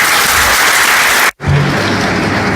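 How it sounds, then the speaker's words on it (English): Loud, dense applause from a crowd, cut by a brief silent gap, then the clapping resumes just as full. "Applause from the audience, please."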